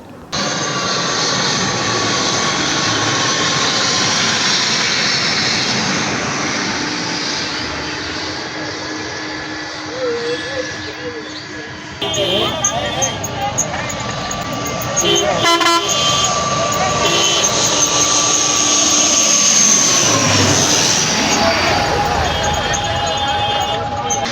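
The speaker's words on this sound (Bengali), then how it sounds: "এখন দেখতেছেন একটা বিমান ল্যান্ডিং করতেছে" Loud jet engine roar from an airplane landing nearby, with a rising whine that swells and fades, plus a brief horn-like tone midway.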